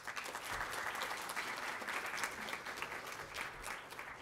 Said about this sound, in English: be proud of yourselves and give a clap because you're one of them.